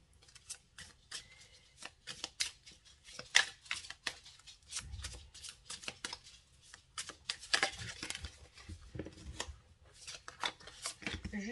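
Tarot cards shuffled by hand, a quick run of crisp riffling and flicking close by, with some faint talking in the background.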